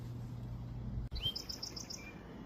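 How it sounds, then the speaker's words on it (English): Song sparrows sing in the open air in the afternoon, a short run of bright, rapid trilled notes heard at moderate distance over a low background rumble. "More the song sparrows serenading."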